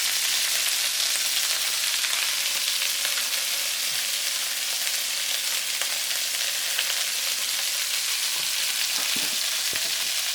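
Chicken wings fry and brown in a pan with a steady, close sizzling hiss and occasional small pops, no voices.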